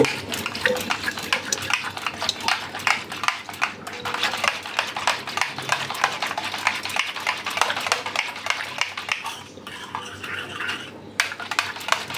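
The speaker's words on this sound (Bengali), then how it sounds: "এখন আমি ডিমগুলোকে দুধের সাথে মিশিয়ে নিব" Eggs being stirred into milk in a bowl for fruit custard, a steady run of quick clinking, scraping strokes close by, continuous with brief pauses and no talking.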